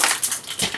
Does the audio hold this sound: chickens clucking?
no